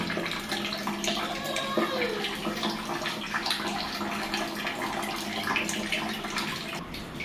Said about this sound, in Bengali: টুক টুক করে পানি আসতেছে।